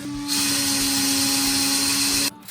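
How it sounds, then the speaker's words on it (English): A power sander runs close by in a room being redone, a steady loud motor whine with a bright hiss that starts abruptly, holds evenly for about two seconds, then cuts off. "don't think he's drilling, I think he's sanding"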